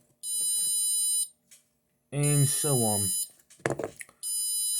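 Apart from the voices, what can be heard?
Arduino Nano buzzer beeping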